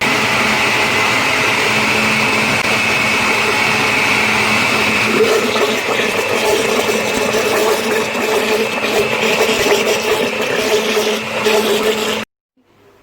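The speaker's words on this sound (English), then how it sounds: "I'm adding 3 more cubes of ice, and I'm gonna blend this right now" An electric blender whirs loudly and steadily, blending a banana daiquiri with ice cubes, a constant close motor drone with a grinding texture before it cuts off abruptly at the end.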